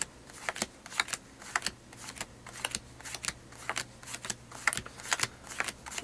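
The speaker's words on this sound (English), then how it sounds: "We just rummage through the cards like this really quick and we cut them in half." A deck of playing cards rummaged and cut in half during a card trick, a quick series of sharp riffling flicks and slaps repeating in bursts, close up with no speech.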